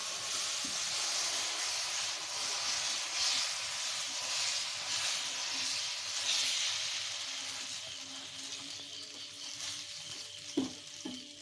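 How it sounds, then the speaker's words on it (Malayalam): Steady sizzling hiss of dosa batter frying on a hot dosa stone griddle, continuous throughout, with a couple of faint clinks near the end. "ഇപ്പോൾ അമ്മ ദോശക്കല്ലിലേക്ക് മാവ് പരാൻ പോവുകയാണ്"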